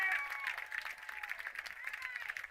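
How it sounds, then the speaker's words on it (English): Crowd at a high school football game in Caruthersville on senior night, roaring and clapping on their feet as a steady, dense wash of cheering with a few whistles, loud and continuous throughout. "Listen to this crowd."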